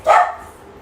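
A single short dog bark nearby, sharp and loud, fading quickly into quiet background.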